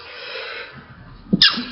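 A single short sneeze erupts with a sharp burst after a drawn breath, close by in a classroom during a maths lesson.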